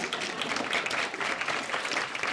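Sustained applause from an audience fills the space, a dense, steady patter of many hands clapping at a moderate distance, with no talk over it.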